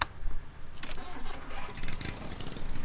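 A car engine in the video game Jalopy cranks, starts and runs as the car drives off, a mid-pitched motor rumble with uneven revving, loud and close, with no talk.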